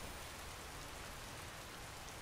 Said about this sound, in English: The rain was gonna put